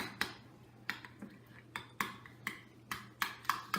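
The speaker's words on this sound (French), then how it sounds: "Maintenant, on va tout mélanger." A spoon clinks against a bowl while shrimp dip with lemon juice and mayonnaise is stirred, about a dozen sharp taps in an uneven rhythm, close and fairly quiet, with a low steady hum underneath.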